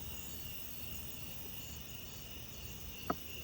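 Insects outdoors at a Texas fossil site, a constant high cricket-like trilling over faint wind, with one brief sharp click near the end and no talking.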